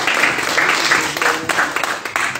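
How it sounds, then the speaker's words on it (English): An audience at a graduation ceremony gives a round of applause, the clapping fairly loud and continuous, with uneven swells and bursts throughout. "let's give a round of applause for Mr. Cook."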